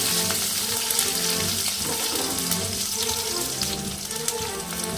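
Onions sautéing in a pan for a Tamil-style kara meen fish curry, a steady dense sizzle and hiss running continuously at close range with no talk.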